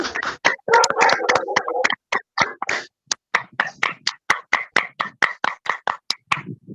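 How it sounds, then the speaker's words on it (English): Participants clapping over a video call at a youth development seminar, a cluster of overlapping claps followed by a run of distinct, evenly spaced single claps coming through a compressed, gated audio line. "I really want to hear those claps"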